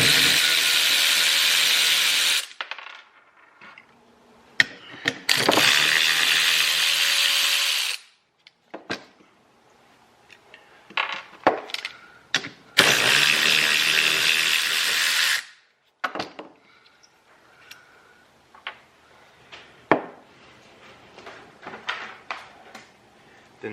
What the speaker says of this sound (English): Gotta take these 3 bolts out to get this plate on.